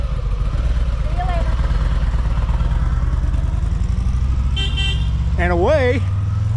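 2005 Harley-Davidson Fat Boy motorcycles ride off with a deep, steady engine rumble. People talk over the rumble, and a brief horn-like toot sounds near the end.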